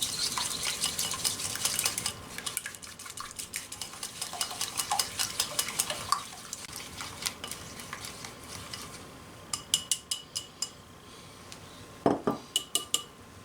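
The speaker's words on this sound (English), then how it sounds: "we have to whisk up our eggs" Eggs whisked briskly in a bowl, a fast stream of close metallic clicks and taps that runs steadily, then breaks into short separate bursts and a few louder knocks near the end, with no voices.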